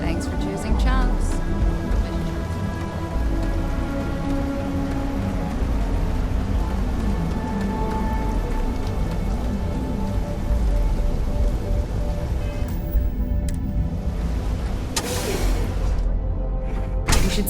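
Rainfall in the video game Starfield, a steady hiss of rain on surfaces with faint distant thunder rumbles and a brief whoosh near the end, continuous and fairly loud.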